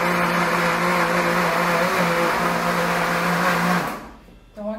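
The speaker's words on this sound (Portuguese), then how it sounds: "bater essa mistura no liquidificador" A kitchen blender whirs steadily as it mixes a pineapple mousse mixture, loud and close, then spins down abruptly near the end.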